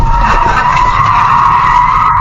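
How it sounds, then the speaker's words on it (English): A car skids hard in dashcam footage, a loud sustained tire squeal over a low road rumble, close and continuous, with no voices. "This time, the video car did not slow down and crashed directly into it."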